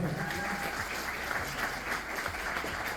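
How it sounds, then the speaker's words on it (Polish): Audience applause at an author meeting with Krzysztof Skiba, a dense, steady wash of clapping from a crowd filling the room throughout. "Wielkie brawa."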